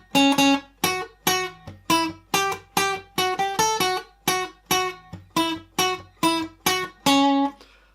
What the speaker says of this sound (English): there's a little melody that plays, a little musical interlude, which goes like this